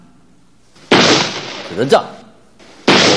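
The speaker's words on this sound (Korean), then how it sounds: "야무진 총소리가 연거푸 탕탕탕 하고" Cartoon gunshots ring out as two loud, sharp bursts spaced about two seconds apart, with a voice speaking between them.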